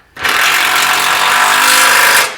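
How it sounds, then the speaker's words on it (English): A power tool runs in one steady, loud burst of about two seconds as the rear shock is tightened on a Trailblazer SS during a lowering job, with no talk. "All right, tighten this shock up."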